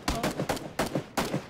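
Rapid gunfire in PlayerUnknown's Battlegrounds, about six sharp, loud shots in quick irregular succession, close and dominant with no talking over them.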